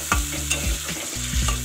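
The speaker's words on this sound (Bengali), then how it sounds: "এবার এটা ভালো করে এই তেল দিয়ে মিক্সড করে নেবো।" Mashed eggplant for a dhaba-style baingan bharta being stirred into hot oil in a pan, a steady sizzle under repeated scraping strokes of a spoon, close and fairly loud.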